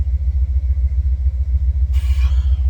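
A 2002 Subaru Impreza wagon idles to charge its battery, making a loud, close, steady low rumble with a pulsing throb, and a brief brighter hiss near the end.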